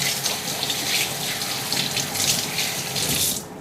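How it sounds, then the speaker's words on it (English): A kitchen tap runs steadily as hands are rinsed beneath it, a close, continuous splashing gush of water that tapers off at the end. "I cannot stand anything on my hands when I'm in the kitchen, so I like to constantly rinse my hands."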